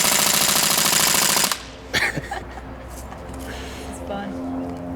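Daytona M246/MK.46 gas-powered airsoft light machine gun firing a loud, rapid full-auto burst for about a second and a half, then stopping abruptly, followed by a few scattered clacks and low background noise.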